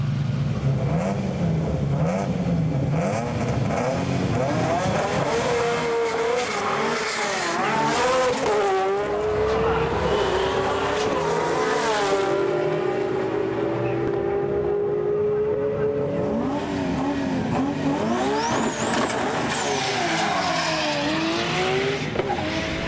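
An Endless-built Nissan Skyline GT-R R33 with a 2.8 litre HKS kit, HKS 3240 twin turbos and 1200 PS rev at a Japanese street meet. Loud, high engine wails climb and fall through gear changes, and tyres squeal in the middle.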